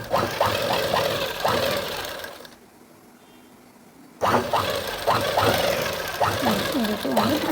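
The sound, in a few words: sewing machine stitching from the waist side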